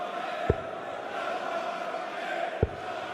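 A steady, dense crowd din fills the hall at the 2025 Flanders Darts Trophy final between Luke Littler and Josh Rock, with two brief, sharp thumps standing out against the constant murmur.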